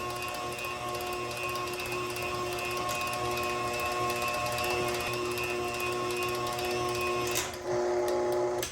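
An electric mixer whipping lard and masa for tamales, a loud continuous motor whine with a steady mechanical hum throughout, shifting slightly near the end, no talking.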